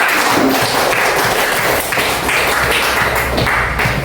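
Children clapping their hands together in a classroom, a steady patter of many small claps that carries on at an even level throughout.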